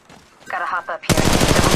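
Gunfire in the mobile video game Apex Legends Mobile: after a few quieter game sounds, a loud burst of rapid automatic fire begins abruptly and continues, close and dense.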